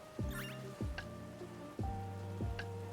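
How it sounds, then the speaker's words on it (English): Rain falling in the Pokemon Violet video game, a soft steady patter running beneath repeating plucked musical tones of the game's background music. "Oh wow, it's raining."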